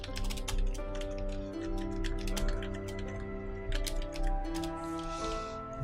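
Computer keys clatter in quick, uneven bursts close to the mic, with a low steady hum underneath and no talking.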